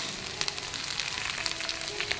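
Vegetables for khichdi frying in a pan give a steady close sizzle, with small utensil clicks and stirring scrapes scattered through it and no talking.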